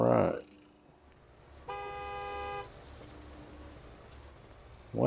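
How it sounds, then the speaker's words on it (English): Car horns honk in the Gas Station Simulator video game: one long, steady horn blast of about a second sits over quiet background traffic noise, framed by short bits of speech at the start and end. "What is everybody honking at?"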